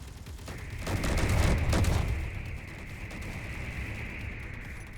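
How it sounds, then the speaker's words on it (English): Bullets whizzing past amid a roaring wash of gunfire in the video game Proto-Tech Raiders, swelling briefly then settling into a steady, moderately loud rumble. "I'm hearing bullets go by"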